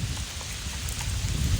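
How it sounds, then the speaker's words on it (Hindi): Steady rain falls in a park during a monsoon-style shower, a continuous soft hiss of drops pattering on surfaces throughout, fairly close and even, with no voices. "बूंदे पड़ रही है"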